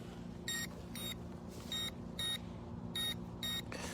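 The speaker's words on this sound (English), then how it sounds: "Why is it beeping?" A remote-control toy car gives out a series of short, high electronic beeps, about eight of them in uneven pairs, over a low steady background hum, with no talking.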